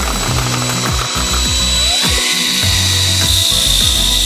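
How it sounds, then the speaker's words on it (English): Power mixer agitating BG2000 damp proofing material in a bucket for interior basement waterproofing, a loud continuous motor whine over rhythmic churning and knocking, steady throughout with no talking. "So you want to mix it and agitate it mechanically from the bottom up."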